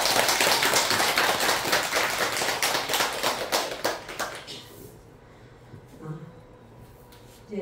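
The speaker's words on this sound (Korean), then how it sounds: "우리 모두를 위해서 박수 한번" A Buddhist temple congregation claps together after a dharma talk, a full round of hand applause that fades after about five seconds into quiet room tone.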